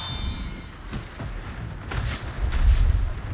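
Shanks opening fire in a Destiny 2 Deep Stone Crypt raid, a run of booming, rumbling gunshots that build louder toward the end, with no one talking over them.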